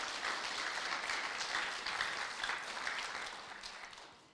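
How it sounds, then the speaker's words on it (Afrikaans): A church congregation gives its pastors warm, sustained applause, dense steady clapping from many hands filling the room without pause. "So kom ons gee net weer vir ons pastore 'n lekker hande klap."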